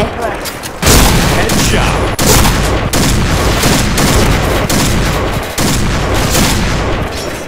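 Barrett M82A1 sniper rifle firing in the Point Blank game, heavy booming shots landing at irregular intervals over a dense, loud background of battle noise.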